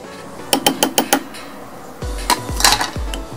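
A spoon stirs baking soda, starch and coconut oil together in a small dish for homemade deodorant, giving a quick run of close clinks against the bowl followed by a few duller knocks and scraping taps.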